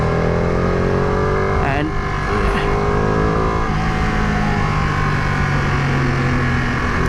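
A Ducati 959 Panigale motorcycle with its throttle opened, a loud steady engine drone with rising and falling tones, heard close up over wind rush through the whole stretch.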